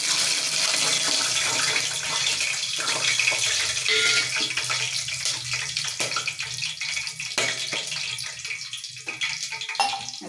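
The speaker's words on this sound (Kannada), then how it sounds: "ಸ್ವಲ್ಪ ವಾಟರ್ ಇದೆ ಸಿಡಿಯುತ್ತೆ।" Whole garam masala spices (bay leaf, fennel, cumin, star anise, cinnamon, cloves, cardamom) crackling and spluttering in hot oil with a little water, a continuous loud hiss broken by sharp pops, no talking.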